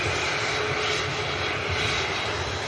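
Airliner engine roaring at Manchester Airport, a steady, loud, continuous jet-like rumble with broadband hiss, close and unbroken throughout with no talk.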